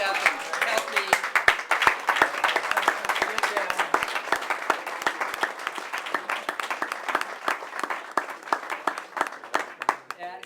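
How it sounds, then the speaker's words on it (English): A standing ovation from an audience at a program: a dense, sustained round of clapping by many hands, loud and steady for the whole stretch, with voices mixed in among the claps. "That is a well-deserved round of applause."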